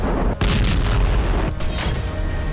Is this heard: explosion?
yes